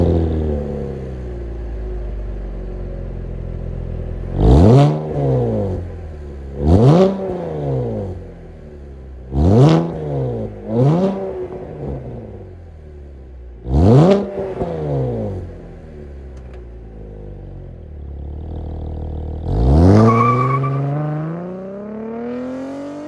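A 2022 Chevrolet Camaro 1LT with a 3.6 liter V6 revs in five sharp, separate blips spaced a few seconds apart, then one longer, rising rev, each falling back to a low idle rumble. No one speaks.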